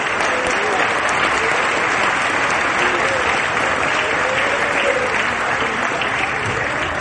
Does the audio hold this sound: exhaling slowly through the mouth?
no